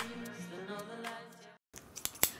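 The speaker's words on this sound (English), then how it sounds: "Gold scissors." A pair of gold scissors snips in a home kitchen during macaron making, giving a few quick, close metallic cuts that come after a brief pause in a steady background sound.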